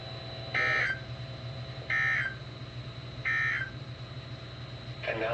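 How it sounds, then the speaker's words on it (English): A NOAA Weather Radio emergency alert system signal during a required weekly test sounds three identical short buzzing data bursts at even intervals, with a fourth starting at the end, over a steady low hum. "This has been a test of the NOAA Weather Radio Public Warning Alarm System."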